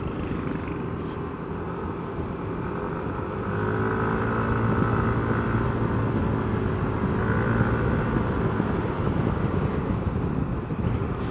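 Yamaha NMAX scooter engine climbs uphill with a continuous drone that swells as it accelerates, heavily mixed with wind rush across the microphone.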